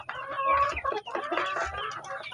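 Backyard chickens cluck close by, a busy run of overlapping clucks and short calls across a couple of seconds with no talk.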